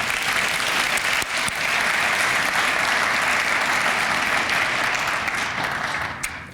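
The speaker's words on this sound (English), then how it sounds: "Please give them a round of applause." Sustained crowd applause for the event committee at a Martin Luther King Day community celebration in Simsbury, 2023, holding thick and even throughout before tapering slightly at the end.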